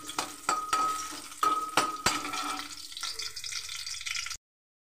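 Potato pieces frying in a little oil in a kadhai on a gas stove, a crackling sizzle with a few sharp metallic clanks early on before the sound cuts off abruptly.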